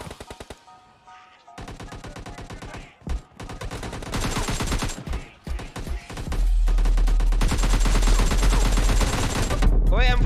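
M4 rifle fire in a PUBG team deathmatch, rapid bursts of close automatic shots in quick succession, growing dense and loud toward the end.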